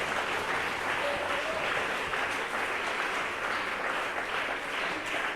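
A church congregation applauds continuously, a dense, even roar of clapping from many hands that holds at a steady level from start to finish with no talking.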